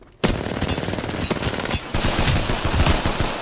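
Rapid automatic gunfire from an Apex Legends match, a loud near burst of repeated shots that starts abruptly, pauses briefly, then resumes in a dense stream of rattling rounds.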